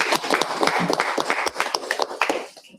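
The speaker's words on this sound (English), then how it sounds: "Can we please give him a round of applause?" A brief burst of scattered hand clapping from a small audience, sharp irregular claps that thin out and fade near the end.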